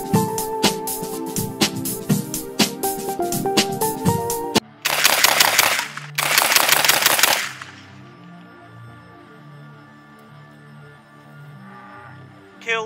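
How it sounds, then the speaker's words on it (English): A 12-gauge drum-fed revolver firing cheap birdshot shells, with a rapid string of loud, closely spaced blasts followed by two longer bursts of gunfire, then ringing echoes and quieter handling noise. "We're shooting birdshot because it was the cheapest, and I don't really care to get ammo through a shit gun."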